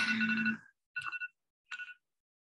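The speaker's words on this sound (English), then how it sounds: "that was my alarm" A phone alarm ringtone chirps in three short electronic bursts, the first longest, followed by silence.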